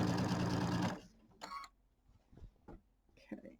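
A sewing machine stitches Kimberbell quilt binding in a dense, rapid close whir for about a second and then stops, followed by quiet handling noises and a short burst of speech.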